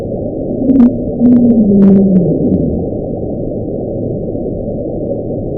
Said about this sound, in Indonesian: Suara ini terdengar seperti sesuatu yang mendeking atau bergemuruh.